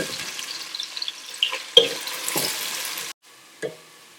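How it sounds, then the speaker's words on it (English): Onion frying in about half a cup of oil, a steady close sizzle with stirring scrapes and clatters, briefly dropping out near the end before a short return. "I'm going to fry this onion until it becomes light golden brown."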